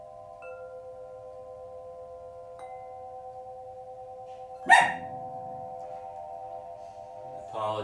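A puppy lets out a single sharp bark against a quiet background of sustained tones during a sound-healing session, followed by a softer yelp near the end.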